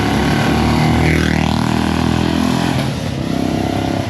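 A Royal Enfield Bullet motorcycle thumps past close by, its loud engine drone swelling and fading steadily over a few seconds on a road.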